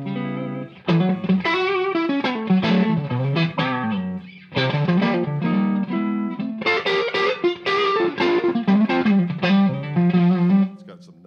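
An electric guitar plays through an amp on a JTM 45 setting, just starting to break up, with slapback echo and no reverb; busy chords and single-note phrases ring loud and close, pausing briefly twice.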